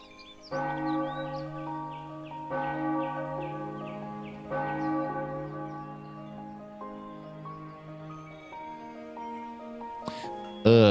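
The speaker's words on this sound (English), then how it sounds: "I hate that stupid bell." In the retro 16-bit JRPG Ara Fell, a morning bell rings in a chiming tune, several struck tones sustaining and overlapping over about ten seconds before a sharp noise at the end.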